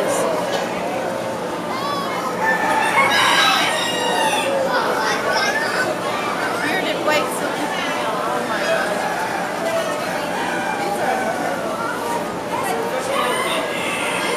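Chickens and roosters, including Silkies, are gathered at an indoor poultry expo, with scattered crowing and clucking mixed into a busy background. Visitors chatter nearby and their voices come over the birds.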